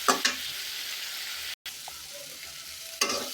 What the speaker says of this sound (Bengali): ওইটা একটু কষিয়ে নিই মাছটার সাথে মশলাটা